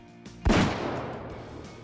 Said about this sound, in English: this gun sounds incredible. That was like the most booming sound we've had from any of the rifles in this game.